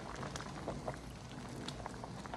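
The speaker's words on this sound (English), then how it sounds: "I've got them boiling." Vegetables boiling in a pot on the stove for homemade baby food, a steady bubbling and simmering hiss that stays close and continuous, with no talking over it.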